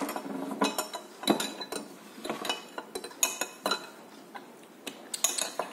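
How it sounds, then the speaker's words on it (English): A spoon stirs sugar into strawberry orange iced tea in a glass, with quick bright clinks and scrapes against the sides in an irregular rhythm, close and fairly faint, no talking. "We're gonna stir it till the sugar dissolves completely."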